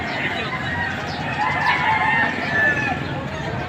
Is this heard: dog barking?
no